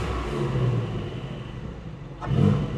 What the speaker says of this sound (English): you can definitely hear the exhaust. I'll give it a couple quick test revs